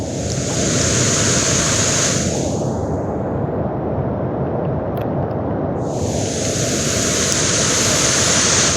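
A constant heavy roar of a flooded river current with a waterfall nearby in Floridablanca, Pampanga, close and loud, with the hiss rising and falling as wind buffets the microphone; no one speaks.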